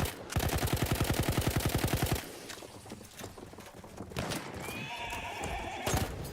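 A horse in the video game Battlefield 1 gallops in close with rapid, loud, evenly spaced hoofbeats, then the rhythm breaks into scattered gunfire bursts and a shrill whinny.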